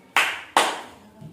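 Two sharp hand claps, close and loud, spaced about half a second apart, each ringing briefly before fading, during a children's counting activity.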